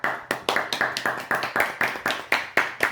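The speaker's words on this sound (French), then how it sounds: "c'est eux qui nous applaudissent" A small group claps after winning a match of the board game Super Fantasy Brawl, a steady run of about a dozen close, sharp hand claps at an even rhythm, with no talking.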